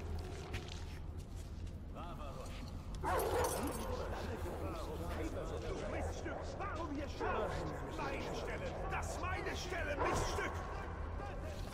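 Dog barking, yipping and whimpering inside a tunnel in the video game Metro Exodus, repeated bursts amid gunfire-like thuds and game noise, with someone talking over it.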